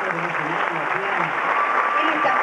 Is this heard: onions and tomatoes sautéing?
no